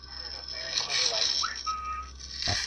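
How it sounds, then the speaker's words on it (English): A thin, steady whistle tone holds briefly in the middle, sitting over a constant high-pitched hiss and low background hum. "this next one is a definite whistle"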